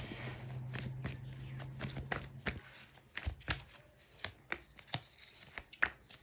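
Tarot cards being shuffled and drawn give a series of close, sharp riffles and taps, a hum in the first two seconds, and then separate card slaps and flicks at a slower pace, with no one speaking.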